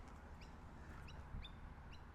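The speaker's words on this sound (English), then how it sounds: "my morning walk to the duck pond with the black swans and the geese with Shiva here." Ducks and geese calling at a pond with black swans on a morning walk, several faint, short honks and quacks spread across a steady outdoor background with no talking.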